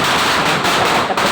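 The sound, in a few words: 1000-wala firecracker string exploding for Diwali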